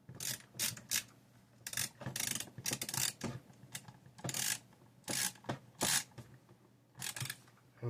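Screws are driven back into an Nvidia Quadro K6000 graphics card with a screwdriver, giving close, repeated bursts of ratcheting clicks and scraping twists with short pauses between turns.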